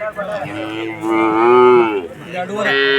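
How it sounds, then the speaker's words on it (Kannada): A three-month-old crossbred calf at a KMF crossbred calf show moos loudly and close, one long drawn-out bellow followed by a shorter second call. "ಇದು ಮೂರು ತಿಂಗಳು ಕರು"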